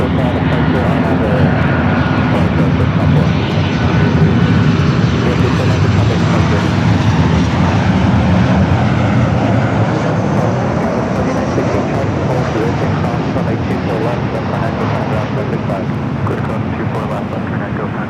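A jet aircraft passes near LAX airport, its engine roar loud and sustained with a gradual shift in pitch as it goes by, while a voice talks over part of it.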